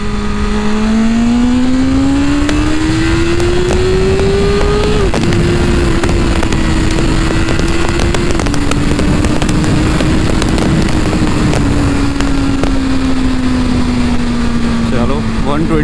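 Motorcycle accelerating hard in first gear up a flyover on a Varanasi highway, its engine note climbing steadily through the rev range under loud wind rush, with someone speaking over it.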